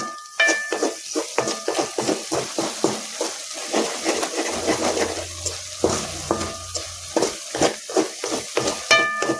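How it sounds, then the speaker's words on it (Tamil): Garlic chutney cooking in oil while being stirred, with rhythmic scraping strokes of a spoon against the pan every second or so over a soft sizzle, close and fairly loud, occasional light metallic clinks. "அப்படியே கிளறி விட்டிங்கன்னா அந்த எண்ணெய் பிரிஞ்சு நல்லா வந்து அப்படியே அந்த வெள்ளை பூண்டு மசியும்"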